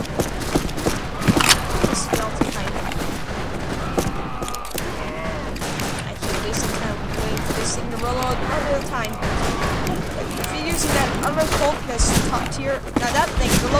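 Gunfire in the Wild West shooter game Fistful of Frags comes as repeated sharp shots and scattered bursts, loud and close, mixed with game noise while someone talks over it.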